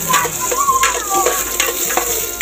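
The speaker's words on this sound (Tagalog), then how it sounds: "igigisa yung mga taba para magmantika" Pork fat sautéing in a pan to render out oil, with a steady close sizzle and intermittent scraping stirs, loud and continuous for a couple of seconds with no talking.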